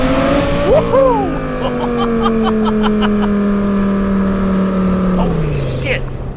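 A 2008 Lamborghini Gallardo Spider's engine revs loud and close, a sustained high whine climbing and falling through the gears as it accelerates, with brief speech over it.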